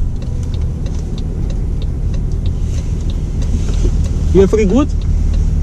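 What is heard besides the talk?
cars passing loudly on the road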